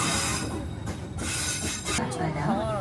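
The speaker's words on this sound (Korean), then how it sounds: "여기서 해변열차 티켓을 구매한 후에 다리돌 전망대까지 이동했고요" The Blue Line Park beach train in Busan runs along the seaside tracks, its wheels squealing in high wavering tones over a steady rolling rumble and clatter, fairly close and continuous.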